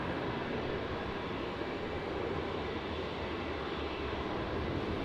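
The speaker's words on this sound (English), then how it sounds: "that was Rex flight ZL202 off to Brisbane." A Rex Airlines passenger plane departs Melbourne Airport bound for Brisbane, its engines giving a steady, loud, broadband roar that holds unbroken throughout.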